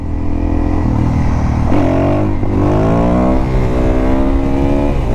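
A Suzuki DRZ400SM supermoto's single-cylinder engine revs hard and climbs through gears during a wheelie, loud and close with rising pitch sweeps and brief drops at each shift, with wind buffeting in the background.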